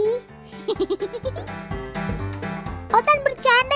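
Sheep bleat in quick wavering cries, mixed with a busy, noisy scene of overlapping voices and music-like tones. The bleats are loudest near the end.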